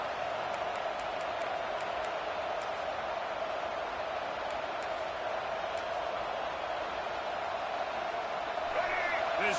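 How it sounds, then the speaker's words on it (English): A football stadium crowd swells and roars, a broad steady wash of cheering and noise filling the whole stretch while an announcer talks over it. "This crowd rising up, sensing that its defense needs some help."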